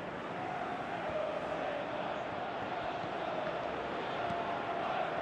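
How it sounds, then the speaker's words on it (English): A football stadium crowd roars and murmurs in a sustained, broad wash of noise, swelling slightly with a faint voice in the mix throughout. "you can hear how the crowd are reacting to this too."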